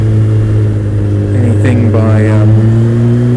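Kawasaki ZX-12R motorcycle engine running steadily while being ridden, a loud low drone with a brief rising rev, heard under light talk.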